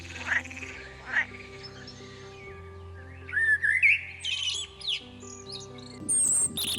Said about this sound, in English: Frogs croak, peepers peep.